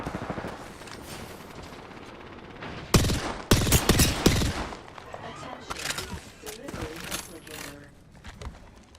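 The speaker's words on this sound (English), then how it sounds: "Enemies in the distance. Firing. Shooting." Video game gunfire in sharp, loud bursts of rapid automatic shots with scattered single cracks, close by, over ongoing background game noise and a talking voice.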